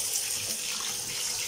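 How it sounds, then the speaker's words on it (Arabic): Rice is rubbed and rinsed under a running tap, a steady close splash of flowing water that fills the short span evenly, with no voices. "بغسلهم جامد كده، وبدعك الرز جامد كده اهو، بصفيه"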